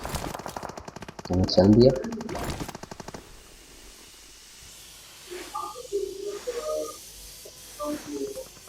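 Gunfire in the BGMI battle royale game, a short burst of rapid shots near the start, then softer scattered distant pops, with someone speaking briefly over it.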